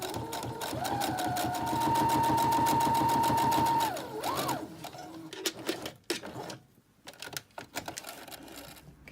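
Sewing machine stitching close along the top edge of folded-in fabric, a steady rapid whirring run for about four seconds, then stopping into short intermittent bursts and clicks.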